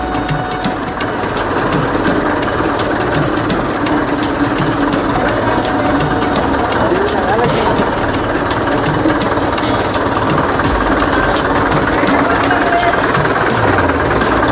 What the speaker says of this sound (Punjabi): ਵੇਲਣਾ ਚੱਲਣ ਡਿਆ ਟਰੈਕਟਰ ਦੇ ਨਾਲ